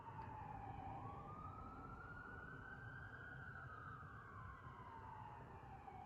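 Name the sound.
emergency vehicle sirens echoing in canyon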